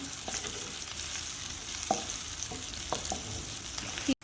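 Onions sizzle in a pan as the base for chicken and potato kababs, a steady close hiss of frying broken by a few soft stirring scrapes and clicks, with no voices.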